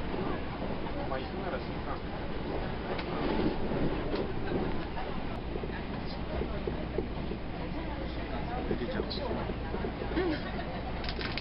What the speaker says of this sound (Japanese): 列車は三河大塚駅を通過。